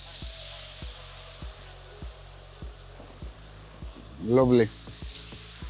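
Tomato paste stirred into caramelized meat in a hot pan for a Greek-style meat phyllo pie filling, sizzling steadily with regular soft scraping strokes of the spoon and a louder burst toward the end; a voice speaks briefly.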